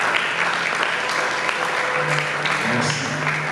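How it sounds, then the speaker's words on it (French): An audience at a spiritual gathering claps steadily and loudly throughout, a dense, continuous round of applause with a few voices calling out over it. "acclamez pour l'homme de Dieu"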